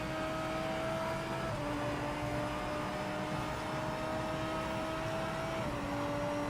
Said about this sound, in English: Car sounds pretty good.